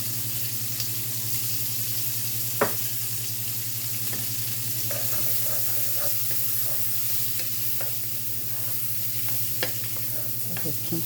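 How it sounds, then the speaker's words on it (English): Celery, garlic, onion and green peppers sauté in a pan with a continuous soft sizzle and occasional spoon scrapes and stirs, alone, over a steady low hum. "Just keep sauteing"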